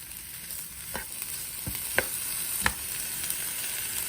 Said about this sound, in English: Can you hear it sizzle?